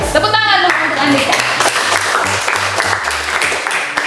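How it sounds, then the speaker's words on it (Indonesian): Students in a Catholic junior high classroom clap for a classmate, a brief loud burst of applause that carries on under a teacher's talk and background music. "Tepuk tangan dulu untuk Andika."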